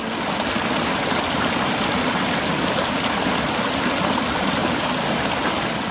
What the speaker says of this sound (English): Collecting water for camp at this beautiful waterfall here.